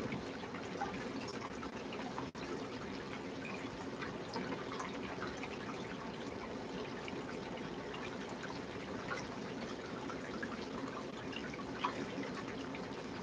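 Running water flows steadily from a household source, a continuous broadband rush that holds fairly even throughout with a faint trickling texture and no voices.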